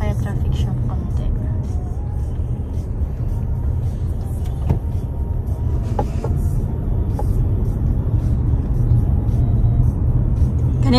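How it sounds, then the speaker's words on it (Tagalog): Road traffic on a slow-moving Canadian street seen from inside a car: a steady loud engine and road rumble, with people talking over it in Tagalog. "Ganito na ang traffic sa Canada."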